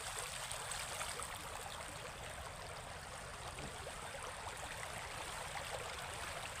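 River water flowing steadily along a riverbank, a faint continuous rushing wash with no distinct splashes or voices.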